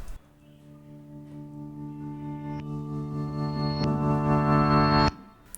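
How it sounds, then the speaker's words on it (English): A sustained electric piano chord run through overdrive distortion swells steadily louder for about five seconds, then cuts off abruptly. "One more ear candy that I built out of this electric piano layer is this"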